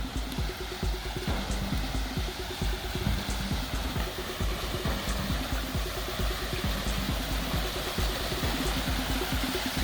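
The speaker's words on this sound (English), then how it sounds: "it's not the most impressive of waterfalls, but it is a waterfall" A small roadside waterfall in Zion National Park pours steadily, a constant broadband rush of falling water that stays even and fairly close throughout, with a low rumbling undertone.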